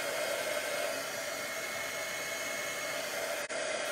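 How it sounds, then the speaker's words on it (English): Heat gun blowing steadily while melting embossing powder, a constant close whooshing roar of air with one brief dip near the end. "as this heat gun heats up, it does not take any time at all"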